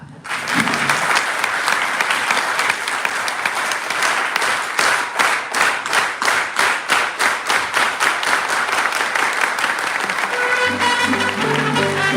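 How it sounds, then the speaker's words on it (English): Large crowd at a Helen F. Chavez legacy celebration breaks into loud, sustained applause with dense hand clapping that turns into a steady rhythmic unison clap before fading near the end. "let's give Elmi a big farm worker hand clap"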